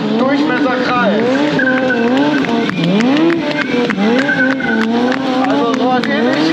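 A stunt rider spinning donuts on a Kawasaki motorcycle at a show in Speyer, the engine revving up and down in rising and falling whines while the rear tire squeals and skids continuously, loud and close.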